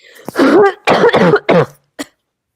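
A person coughs and clears their throat in a few rough bursts, followed by a short final cough, close and fairly loud with no talking.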